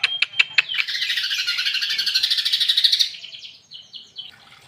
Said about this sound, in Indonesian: perawatan harian simple burung cucak hijau mini